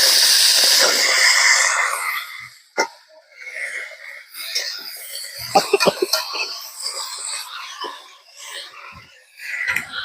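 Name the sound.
pumpkin sizzling as it is added to hot spices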